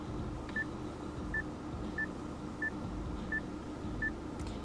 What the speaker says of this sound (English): the beep when you touch the display